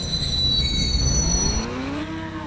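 A train rolls along the tracks with a steady low rumble, while high wheel squeal rings over it and then drops away partway through, loud and close.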